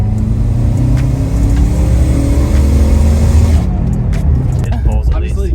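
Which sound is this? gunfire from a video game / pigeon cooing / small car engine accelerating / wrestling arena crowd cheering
small car engine accelerating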